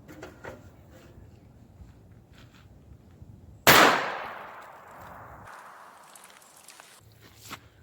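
A single sharp, loud gunshot from a 9mm handgun mistakenly fired with 22 TCM 9R ammunition, bursting out of quiet handling noise and ringing off into a decaying tail, with light clatter before and after.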